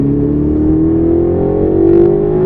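Running at full power down the Silverstone straight, a car's engine rises in a long, loud, close-up pull with a brief roughness near the end; no voices.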